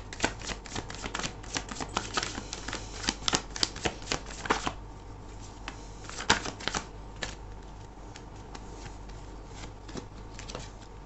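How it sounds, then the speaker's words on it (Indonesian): Tarot cards shuffled and drawn from a deck during a reading, with rapid riffling bursts for the first half giving way to sparser single card snaps and slides, close and clear with no talking. "Aku akan ambil 3 kartu dulu ya"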